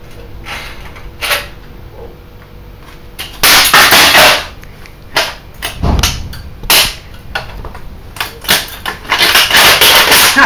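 An HP printer being smashed apart, with scattered loud cracks and bangs of breaking plastic, several dense bursts of impacts, and quieter rattles and handling noise between the hits.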